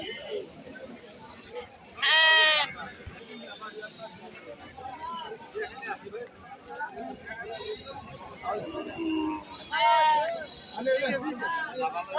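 Goats and sheep bleat in two loud, wavering calls about eight seconds apart at a busy cattle market in Tangail, over constant crowd chatter and nearby talking.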